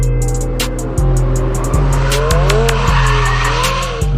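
A race car roars at full throttle and skids with sharp, sustained tire squeals, engine tone stepping through repeated gear shifts, loud and close throughout.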